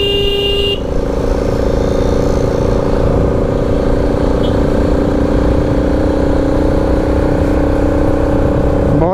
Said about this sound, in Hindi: जो साउंड है वो भी काफ़ी बढ़िया, लाइक ऐसे लगता नहीं है कि 200 सीसी वाला इंजन है